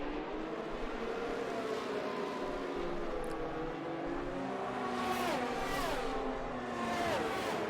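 Race car engines in an F1 video game during a Miami Grand Prix safety car period, a steady layered drone of several cars with rising and falling revs and pitch sweeps, continuous and fairly close.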